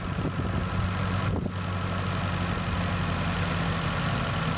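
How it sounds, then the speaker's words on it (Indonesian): Motorcycle-style engine idling steadily while the carburetor air screw is turned bit by bit, a close, loud, continuous rumble with rapid knocking pulses and a brief dip in the middle. "Kita cari suara yang paling pas, suara mesin paling pas"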